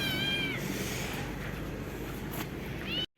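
A cat meows with drawn-out, wavering cries at the start and again near the end, loud and close over a rumbling background.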